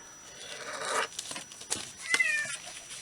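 A house cat meows several times close by, short rising calls separated by brief pauses.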